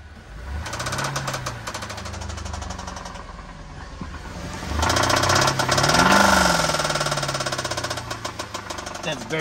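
A Honda mini truck engine idles with a rapid, steady ticking tap, rising briefly as it is lightly revved midway, then settling back.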